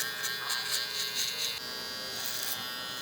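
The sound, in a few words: electric hair trimmer cutting a child's hair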